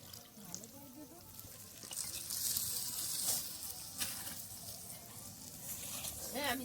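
Cooking water poured over boiled peas and potatoes for chicken ghugni in a clay pot, a soft rushing splash and sizzle building in the middle and easing off, with someone talking over it at times.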